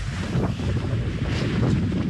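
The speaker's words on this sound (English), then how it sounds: "It's windy as well." Strong wind buffets the microphone out at sea near Spitbank Fort in the Solent, a steady low roar with rushing gusts that carries on throughout, with no voices heard.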